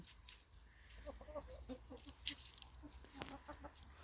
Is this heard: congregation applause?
no